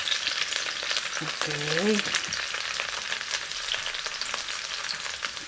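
Chicken sizzles steadily in a frying pan as it is stirred, with scraping bursts over the constant hiss, and a voice briefly speaks near the middle.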